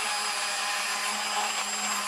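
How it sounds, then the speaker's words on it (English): A Cuisinart immersion blender whirs steadily while emulsifying egg yolks and oil into mayonnaise, a constant high motor whine with broadband grinding, close and continuous with no talk. "What I'm using here is Cuisinart immersion blender."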